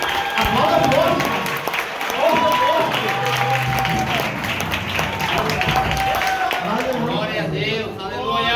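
Loud sustained applause from a congregation during a Sunday church service, with music and singing voices carrying over the clapping throughout.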